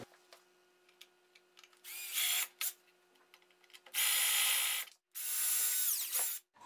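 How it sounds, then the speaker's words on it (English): A power drill whines in several loud bursts of a few seconds each, drilling out rivets in a windscreen frame during a car restoration, with quieter clicks and tapping between them, close by. "So we'll start drilling those out."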